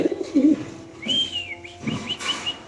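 Soft, low cooing from nearby silver pigeons comes in short bursts, mixed with a few higher whistling bird calls.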